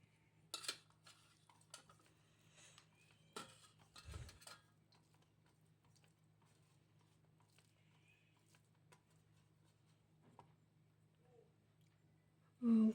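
Faint clinks and scrapes of cutlery against a plate during a vegetarian meal of bitter gourd and potato fry, brinjal fry and cauliflower-potato curry, scattered taps in a quiet room with a louder knock at the very end.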